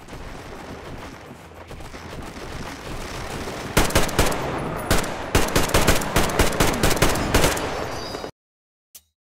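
Gunfire in the video game Metro Exodus: a rumbling ambient bed, then from about a third of the way in a run of loud, sharp shots in quick irregular bursts, ending abruptly with one faint final click.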